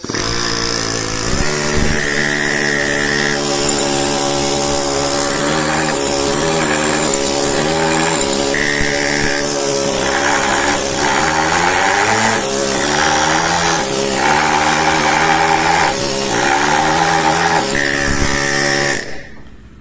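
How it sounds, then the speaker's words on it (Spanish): A loud pneumatic hammer carving stone chatters continuously, its rapid buzzing pulse shifting in pitch as the tool bites and eases, close and unbroken. "esta es la mejor manera de utilizar este tipo de martillos neumáticos"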